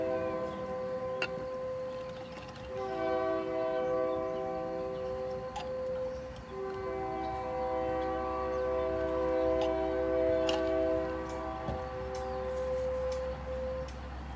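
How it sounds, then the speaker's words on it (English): A train passes close by, its horn or wheel squeal holding steady tonal notes over a continuous low rumble that stays loud and alone for about fourteen seconds. "There's the train."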